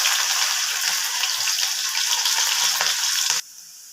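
Ginger, garlic and a green chilli frying in hot oil with popped mustard seeds for a Kerala egg roast, a steady loud sizzle with faint stirring clicks that cuts off sharply near the end.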